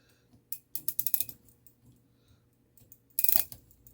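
A mid-century modern mantel clock being wound, with bursts of close, quiet ratcheting clicks from the pawl and gears, then a pause and a final quick flurry of clicks.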